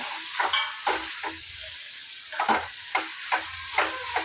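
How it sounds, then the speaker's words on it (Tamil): Coriander leaves sauté in a hot pan, a continuous close sizzle broken by rhythmic scraping strokes of a spoon roughly every half second, with no voices. "கொத்தமல்லி சேர்த்துக்கிட்டு கொத்தமல்லி நல்லா வதக்கி விடுங்க"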